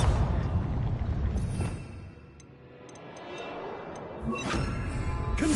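A Bombarda blasting spell explodes in the wizarding game Hogwarts Legacy, a loud crashing burst that fades to a quieter lull before a second sharp impact near the end.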